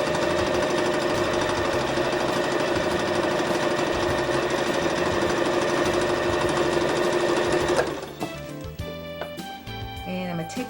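A sewing machine stitches leggings fabric in a fast, loud, continuous mechanical whir that stops abruptly near the end. A quieter hum and a few clicks follow.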